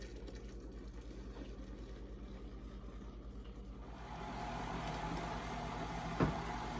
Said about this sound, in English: Now I'm pouring the mixture into the gelatin.